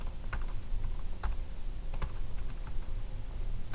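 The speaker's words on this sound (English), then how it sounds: "Type it in" Numbers being typed on a computer keyboard, a run of close, quick key clicks at an uneven pace over a soft background hum, with no talking.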